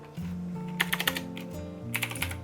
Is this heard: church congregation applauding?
no